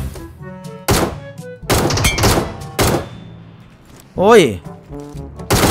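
An ACE32 rifle in PUBG Mobile fires several loud, separate shots with punchy thuds and short gaps between them, and a man exclaims near the end.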